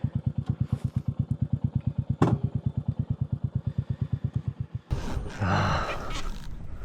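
A Royal Enfield Meteor 350 single-cylinder motorcycle thumps close by in a steady, even pulse while climbing a rough forest road on a mountain, then the engine note gives way to louder, rougher rumbling and wind.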